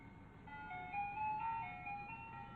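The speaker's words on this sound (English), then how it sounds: "The song playing on a pair of shitty speakers. The kind you'd hear on top of an old-timey ice cream truck." A tinny ice cream truck jingle plays a simple sustained melody through cheap loudspeakers, faint and steady with no voices over it.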